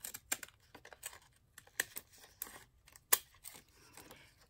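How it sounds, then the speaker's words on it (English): Scissors snipping paper while making craft tags, a series of sharp, close, uneven cuts and rustles, with one louder snip standing out near the end. "Whenever you go back over anything with these scissors, it's never as pretty as the first time."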